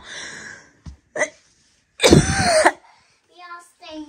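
A child coughs a few times in short bursts, with a louder rough cough in the middle and some faint vocal sounds around it.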